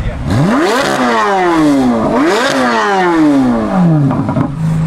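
An Audi RS7 engine revs hard several times up close, each loud rising roar falling back in a long sweeping drop, with brief voices around it.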